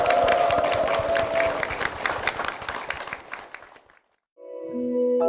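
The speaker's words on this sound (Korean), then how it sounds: "주님께 영광의 박수를 드리겠습니다." A church congregation applauding together during a Salvation Army worship service, a loud dense round of clapping that fades out, then a musical tone comes in.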